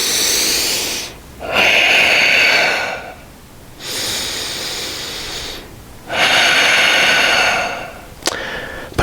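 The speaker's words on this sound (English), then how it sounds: "Let that sharp exhale happen." During a yoga flow, sharp exhales come through the nose and mouth as several loud, close breaths. Forceful breathy rushes alternate with quieter inhales in a slow, even rhythm, ending with a short snort-like puff.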